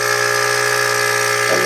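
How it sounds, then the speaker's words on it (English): A CNC machine's air pump, switched on through a solid-state relay, runs with a steady, continuous motor buzz and hum at close range, holding an even level throughout with no talk. "let me show you my air pump"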